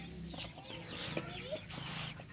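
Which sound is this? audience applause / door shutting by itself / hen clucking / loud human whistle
hen clucking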